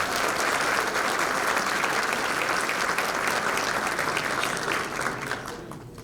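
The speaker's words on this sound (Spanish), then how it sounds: "Lo recibimos con un fuerte aplauso, por favor." A seminar audience in Ushuaia applauds a speaker being welcomed, a broad sustained burst of clapping that holds steady and then tapers off near the end.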